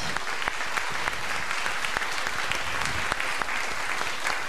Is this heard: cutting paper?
no